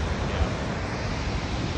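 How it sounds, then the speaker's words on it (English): Nevada Fall in Yosemite thunders as a continuous, loud broadband rush, with some low wind buffeting on the microphone and no voices over it. "That is quite the waterfall."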